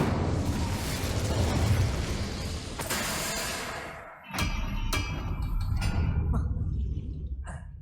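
Incendio fire spells in Hogwarts Legacy blast out as loud roaring whooshes and bursts, with sharp crackling flares and booming impacts in quick succession, under a sustained dense rumble that dips briefly midway.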